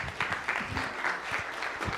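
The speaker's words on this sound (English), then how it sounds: "Let's give another round of applause to Reverend Still." A short burst of audience clapping at a Martin Luther King Jr. Day of Service gathering, fairly faint and scattered, with individual claps audible.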